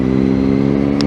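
Loud, steady exhaust drone from a Triumph Daytona 675 motorcycle, a continuous engine hum held near the microphone with a brief hiss near the end.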